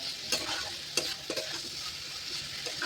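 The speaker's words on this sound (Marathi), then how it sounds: "उकडलेला बटाटा चांगला परतून घेतला तेलावर." Boiled potatoes stir-fried in hot oil for a potato fasting vegetable dish, with a steady bright sizzle and several sharp scraping stirs of a spatula in the pan, close and alone.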